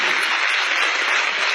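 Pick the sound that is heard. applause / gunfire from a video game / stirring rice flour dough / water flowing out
applause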